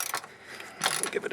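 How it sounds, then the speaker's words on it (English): A ratchet wrench clicks as it loosens the 12mm sway bar bushing nut on a Toyota Corolla, quick close metallic ratcheting in two short bursts. "So we're going to get a wrench on there"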